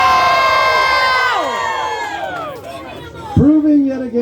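Concert audience at a show in Salem, Massachusetts, erupting in loud cheers and sustained overlapping shouts that fade over a few seconds, followed by a single sharp rising whoop near the end and more scattered cheering.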